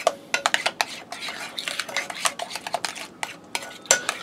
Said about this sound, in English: you just want to stir that around and get your sugar incorporated in there